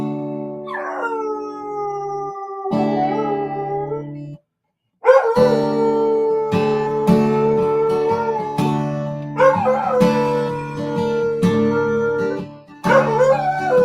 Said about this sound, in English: We got singing dogs.